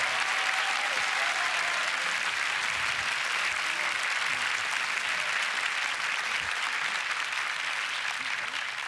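Sustained loud applause and cheering from a large audience at a beatbox battle solo final, a dense unbroken roar of clapping filling the whole stretch with no clear voices on top.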